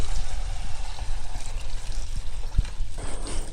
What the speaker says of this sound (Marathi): ह्याच्यात गरम पाणी ओतूयात आपण